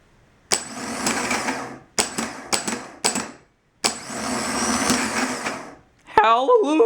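A starter motor, just fixed after a solenoid repair, cranks in several bursts: one long whir, three short stabs, then another long run, each starting and stopping abruptly, close and loud, before a voice speaks at the end.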